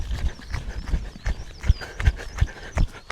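Wild horses running, their hooves pounding in a loud, uneven rapid rhythm of thuds close by, with some faint background noise and no talking.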